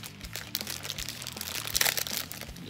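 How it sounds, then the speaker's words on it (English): A plastic bag of Oreo cookies taken from its box and handled, giving continuous close crinkling and crackling with a denser burst partway through, with no talk. "they come in a nice handy little plastic bag once you open up the box"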